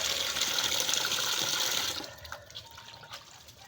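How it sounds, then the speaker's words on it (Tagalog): Pungapong shellfish are rinsed in clean water, giving a steady close splashing and sloshing that fades into quieter trickles and drips. "ayan ang pungapong na nilalabahan sa malinis na tubig para mapasarap na rin"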